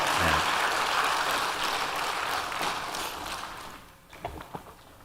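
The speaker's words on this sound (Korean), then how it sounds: "우리 박수 한번 하시죠" A congregation at a Sunday afternoon service at Gwangju Bethel Church gives a dense burst of applause that holds for a few seconds, then fades away, leaving a few isolated sharp claps or knocks.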